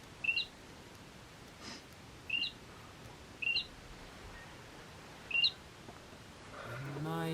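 A single bird chirps outdoors around sunrise on a hiking trail, four short separate calls a second or so apart, fairly faint over quiet ambient air with a rising rustle at the end.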